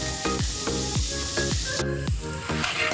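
Semolina poured into hot ghee in a kadai over a gas flame, giving a steady close sizzle with a run of short clattering scrapes as it is stirred.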